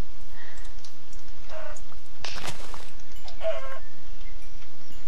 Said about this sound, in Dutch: Oh, daar zijn nog meer kippen.